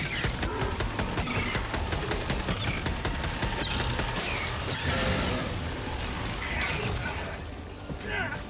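Dense gunfire from a Helldivers 2 firefight, with rapid bursts and shots layered over game noise and effects across the whole stretch, loud and continuous.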